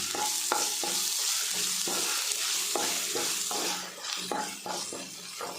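Crushed ginger, green chilli and garlic frying with onions in coconut oil, stirred in a pan: a bright constant sizzle punctuated by repeated sharp spatula scrapes and clinks against the metal, close and loud.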